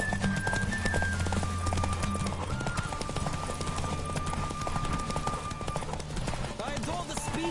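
Game horse Roach galloping in a race in The Witcher, steady rapid clip-clop hoofbeats with occasional whinnies, loud and continuous under game music and rushing ambience.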